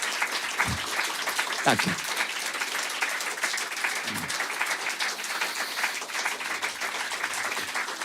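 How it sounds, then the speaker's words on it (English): Audience applause after a live studio concert performance, a dense, sustained roar of clapping that runs the whole way through, with a brief spoken thanks from the stage and a few low thumps under it. "And please, one more round of applause for all of this crew."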